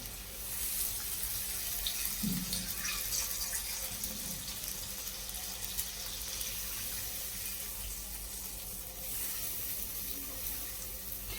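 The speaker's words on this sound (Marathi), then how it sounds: "आता मी त्यात 2 वाट्या पाणी घालणार आहे" Two cups of water poured into a pan of ghee-softened pineapple pieces for pineapple sheera, a soft continuous watery rush with a faint hiss, fairly quiet and steady, with no voices.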